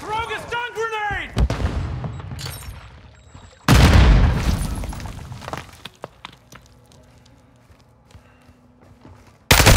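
A stun grenade thrown and detonating in Call of Duty MW2, with a sharp loud blast that cuts in suddenly and decays into a lingering ringing rumble, amid other gunfire and game sounds.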